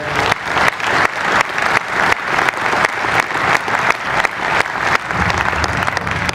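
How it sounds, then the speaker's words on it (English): An audience at a college quarterback football camp applauds the coaches, sustained loud clapping from many people that swells in rhythmic waves before easing slightly at the end. "A round of applause for all the coaches who participated today."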